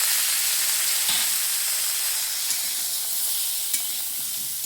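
Cauliflower and potato pieces frying in a pan, a loud, close, even sizzling hiss with a couple of faint clicks from stirring, no voices over it.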